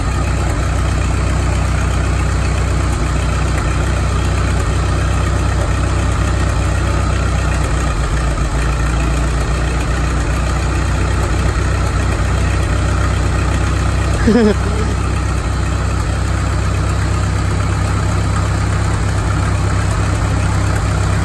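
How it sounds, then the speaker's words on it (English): A Farmall M diesel tractor runs on gasoline with a loud, steady, close engine drone, holding near idle with a slight rise as it starts to rev, and a voice speaks over it. "Or there he's starting to rev up."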